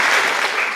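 An audience claps briefly at a talk on workplace violence, a short dense burst of applause with no voices over it.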